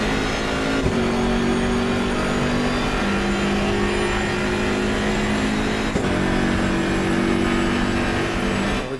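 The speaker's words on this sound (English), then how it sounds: "We're on the limiter, can't go any faster." Race car engine held on the rev limiter in a sim-racing game, a loud steady high-revving drone with sustained harmonic tones throughout, a brief blip near one second and another near six seconds, no talk over it.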